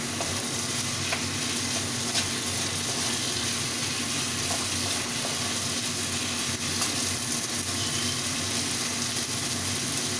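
Spice paste being stir-fried in a kadai for a Bengali dish, a steady broadband sizzle with stirring scrapes running continuously and fairly close, no voices.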